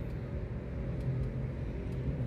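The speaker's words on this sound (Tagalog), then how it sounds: "Mga sasakyan oh." Cars passing near a ferris wheel at a crowded fair, a low steady traffic rumble heard from a short distance without talk.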